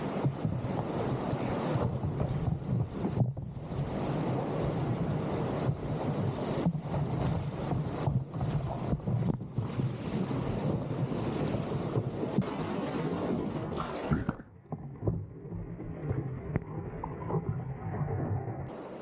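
Whitewater rapid on a Maine river roars around a canoe, a loud continuous rush of churning water with wind buffeting the microphone, the noise easing briefly near the end.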